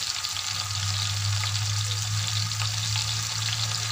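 Mushrooms fry in a kadhai with salt, kadhai masala and chilli, giving a dense continuous sizzle and crackle under a steady low hum, close and even for a few seconds, with no voices.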